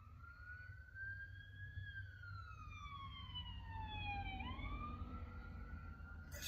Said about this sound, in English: The sound of an ambulance.